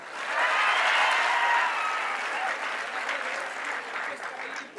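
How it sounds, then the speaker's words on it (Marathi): A crowd of audience members applauding loudly at a school event, a dense burst of clapping that swells quickly, holds strong and then tapers slightly toward the end. "ह्या उभे राहणाऱ्या लेकरांसाठी एकदा जोरदार टाळ्या होत्या पहा"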